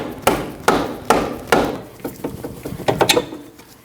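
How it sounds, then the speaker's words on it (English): A rubber mallet strikes a Subaru steering knuckle to free the outer tie rod, with five evenly spaced solid blows followed by a quicker run of lighter taps and rattles, close and clear. "You can hit this area right here with a rubber mallet until it comes off."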